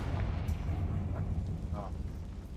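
A Confringo fire spell blasts in Hogwarts Legacy inside a closed mine, a deep rumbling explosion that rolls on steadily with low booming energy.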